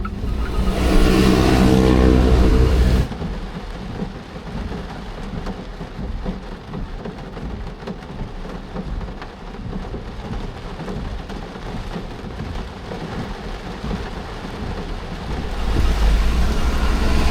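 Steady, heavy rain pours with a dense wash of noise, louder at the start and end, with low thunder-like rumbling underneath. No voices.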